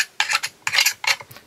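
The blunt end of a craft blade is pushed and scraped against a polymer clay brooch, making three short, close, gritty rubbing and scratching bursts with brief pauses between them.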